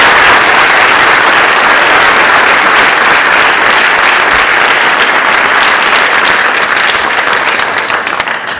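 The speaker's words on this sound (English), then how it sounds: "Please join me in thanking them with a round of applause" A school audience at a National Honor Society induction ceremony applauds the NHS advisor and officers with loud, sustained, dense clapping that runs the full length and tapers slightly at the end.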